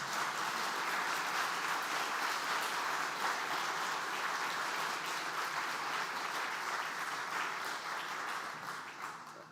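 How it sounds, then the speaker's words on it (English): A sustained round of applause from an audience at a university psychology and family therapy school's 60th anniversary celebration, a full even clatter of many hands that begins to fade near the end. "Can we give them a round of applause?"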